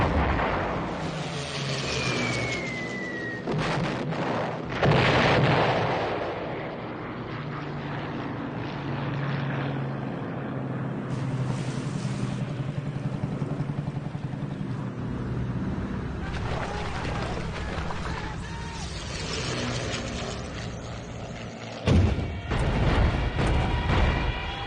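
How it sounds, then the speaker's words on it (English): Luftwaffe Stuka dive bombers and bombers attacking at Dunkirk: droning aircraft engines with a descending whine early on and bursts of explosions, a rough, dense wartime din with loud blasts near the end. "Goering sends out the Luftwaffe's Stukas and bombers"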